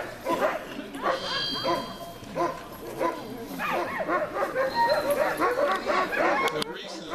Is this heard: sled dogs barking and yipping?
yes